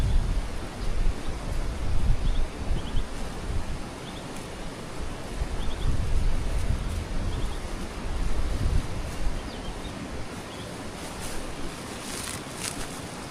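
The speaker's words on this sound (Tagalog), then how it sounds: "Mahangin." Strong wind blowing outdoors while lettuce seedlings are being planted, heavy gusting rumble buffeting the microphone continuously, rising and easing in waves.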